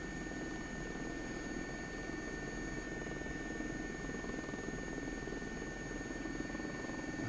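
Steady, continuous helicopter engine and rotor drone from the X-Plane 11 flight simulator during a flight over St Michaels and the River Wyre, holding even and constant throughout with no talking.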